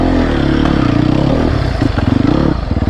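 A 2020 Sherco 300 SEF Factory enduro motorcycle on a dirt trail, its engine loud and close with a rapid pulsing four-stroke chug, throttle blips and surges, with clatter from the bike over rough ground.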